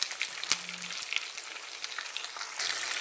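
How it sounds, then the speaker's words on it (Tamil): Chopped big onions hit hot oil with curry leaves and crisp chana dal while cooking a potato-free poori kurma, giving a steady soft sizzle with a brief sharp crackle near the start and a small clink of a utensil. "பெரிய வெங்காயம் சேர்த்து இதை நல்லா வதக்கிடலாம்"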